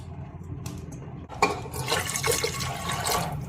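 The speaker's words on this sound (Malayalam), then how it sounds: "2 കപ്പ് വെള്ളം കൂടി ഒഴിച്ചെടുക്കുക." About two cups of water poured into a cooking pot holding a Maggi stock cube and slit green chillies for kabsa; a steady, close rush of liquid swells partway through and continues to the end.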